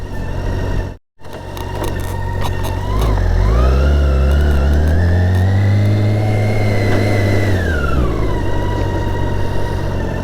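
A Honda Africa Twin motorcycle with a DCT gearbox revs hard, its engine note climbing steeply, holding high and loud for several seconds, then dropping back to a lower idle. It sounds steady and close, with no talking.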